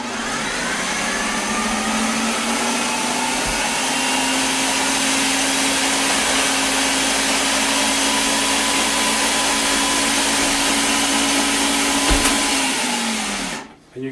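A stand mixer runs on its low dough setting through keto chocolate cake batter, giving a steady, loud motor whine for about thirteen seconds before it cuts off at the end.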